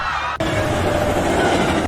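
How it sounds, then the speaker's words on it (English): Runaway train with power car and coach rushing down a main line in an animated series, a loud continuous rumbling roar with rail noise that swells after a brief cut, no voices. "The power car and coach 1 are still speeding down the main line."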